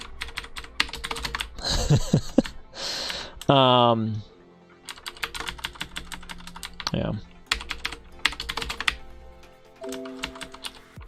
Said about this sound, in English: I like how I'm essentially drawing with my keyboard here.